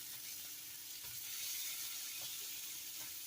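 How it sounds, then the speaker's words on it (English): Salmon fillets sizzle steadily in a hot pan as they crisp, a constant bright hiss of frying with faint stirring taps and no talk. "I think I'm going to flip them and let them crisp on both sides a little bit more."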